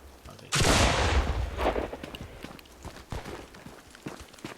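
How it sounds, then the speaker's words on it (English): A gunshot in the video game Active Matter, a loud crack followed by a rolling echo and then softer scattered thuds and steps, with no speech over it. "Or like this shot, I just heard this shot."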